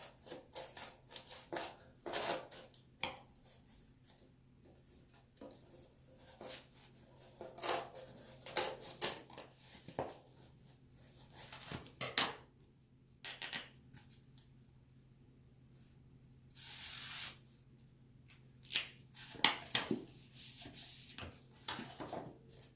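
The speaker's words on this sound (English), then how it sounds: "we'll just kind of trace it out with the scissors" Scissors snip and rub through paper as a cut-out shape is traced, giving intermittent short crisp bursts and scraping strokes, close and fairly quiet, with no talk.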